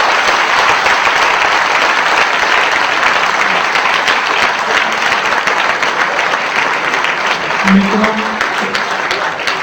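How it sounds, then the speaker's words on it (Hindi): Loud, dense applause from an audience at a Hindi comedy poetry gathering honouring the poets, sustained for nearly ten seconds with a brief spoken word near the start. "मैं चाहूंगा कि सबसे पहले उनके लिए एक सम्मान में जोरदार तालियां बजा दें"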